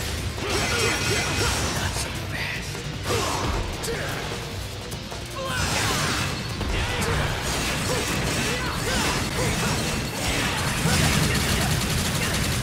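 Rapid gunfire and clashing action in Devil May Cry 4, dense bursts of shots and mechanical clatter running throughout, loud and busy, with voices talking over it.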